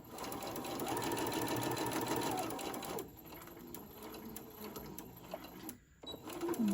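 A sewing machine stitching a quilted zipper wallet runs in a steady, fast whirring hum for about three seconds, then gives shorter, stop-start bursts of stitching with pauses, close by.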